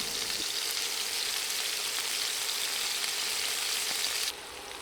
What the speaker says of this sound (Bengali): শাসলিক অবশ্যই চুলার মিডিয়াম আঁচে ভাজতে হবে